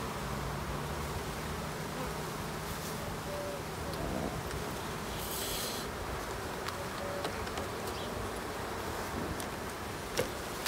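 Honeybees hum in a low, steady drone at an open hive during a late-summer inspection, with soft rustles and a few faint clicks and taps over the buzz.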